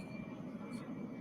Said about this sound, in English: Apologize for the plane.